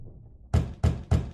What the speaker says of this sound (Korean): 이 정도면 노크 잘했어